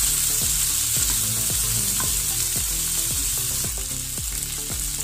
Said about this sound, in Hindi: और भिंडियों को अच्छी तरह से हम फ्राई कर देंगे।